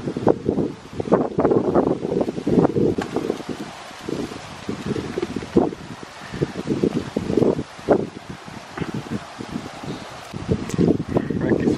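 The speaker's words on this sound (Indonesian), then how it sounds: "anginnya kencang." Strong wind gusts through a cherry tree outdoors, roaring and rustling leaves in continuous waves with louder bursts, loud and close to the microphone, with no talk.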